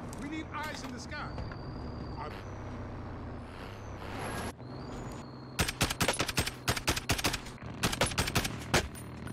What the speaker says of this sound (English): That's a minigun, dude.